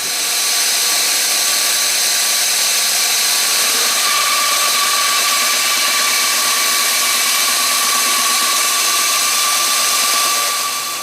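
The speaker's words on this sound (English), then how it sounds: "I just got a new bandsaw, going to be throwing it through there." A bandsaw whines steadily and loudly as it cuts through Kydex plastic, one continuous run with no pauses.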